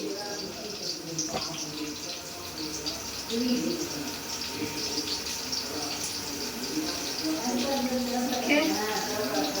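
Tap water runs steadily into a sink during handwashing at home, a continuous close wash of splashing with people talking over it throughout.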